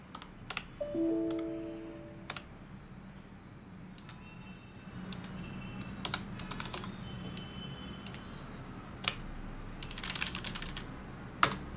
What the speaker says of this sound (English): I am typing here.